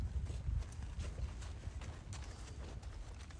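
Horse loping on a lunge line, a steady rhythmic drumming of hooves on soft ground at moderate distance, continuous throughout.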